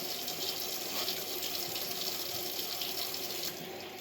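Tap water runs into a sink for an initial hand rinse before scrubbing, a steady hissing splash heard close up without voices, softening slightly in the final half second.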